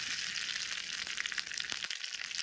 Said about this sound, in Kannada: ಸ್ವಲ್ಪ ಎಣ್ಣೆ ಬಿಸಿ ಮಾಡಿ ತಂದಿದ್ದೀನಿ. ಅದಕ್ಕೆ ಸ್ವಲ್ಪ ಸಾಸಿವೆ ಹಾಕ್ಕೊಳ್ತೀನಿ.